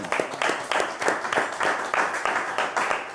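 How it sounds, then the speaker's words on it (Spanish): A crowd claps for the champion coach of Paraguay's Under-23 football team, the clapping coming in steady rhythmic bursts roughly twice a second, fairly loud and continuous throughout. "Aplauso para el profe campeón"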